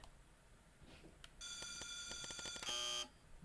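Electronic buzzer tone in LittleBigPlanet 3, sounding as a sustained harsh buzz of about one and a half seconds, then a second brighter burst, heard alone over faint background.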